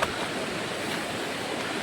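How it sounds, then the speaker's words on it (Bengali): Steady broadband rush of a waterfall somewhere ahead along a rocky forest path, a continuous even roar with no breaks and no voices. "সামনে ঝর্ণার শব্দ শোনা যাচ্ছে।"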